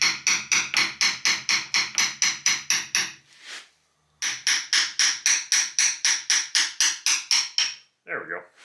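Light metal hammer taps on a stuck steering cylinder piston from a Timberjack 360 skidder during rebuild, a rapid even series of sharp ringing clinks, close and loud, broken by a short pause before a second run.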